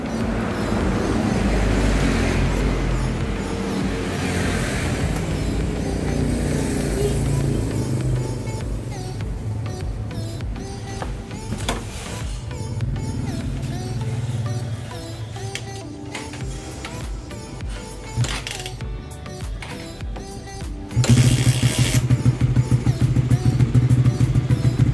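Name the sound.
kick-starting a motorcycle with a cold engine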